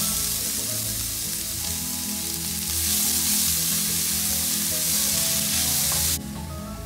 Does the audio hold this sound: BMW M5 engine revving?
no